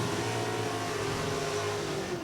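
A 1985 Camaro stock drag car launches hard off the line at a drag strip, its loud engine roaring steadily under full throttle as it pulls away, with no talk.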